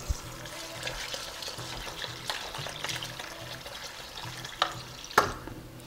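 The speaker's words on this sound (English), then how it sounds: "I'm going to add the water to the rice." Water pours steadily into rice in a pot while cooking Persian dampokhtak with yellow fava beans, a soft continuous trickle with a few sharp clinks toward the end, fairly quiet and close, with no one talking.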